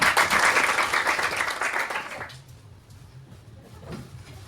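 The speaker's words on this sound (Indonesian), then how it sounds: "kasih aplaus untuk" Applause for a group presentation in a classroom, a burst of many hands clapping together that fades out after about two seconds, followed by quiet room noise.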